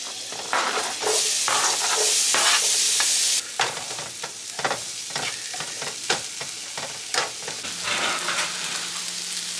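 Meat searing in a hot pan gives a loud, bright sizzle for the first few seconds, then quieter crackling broken by repeated sharp clacks of a utensil.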